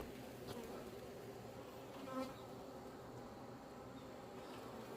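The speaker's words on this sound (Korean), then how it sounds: "말벌 오늘 진짜 많이 들어왔습니다" A dense, continuous buzz of many black hornets flying around a honeybee hive, steady and fairly faint, with one hornet droning closer for a moment.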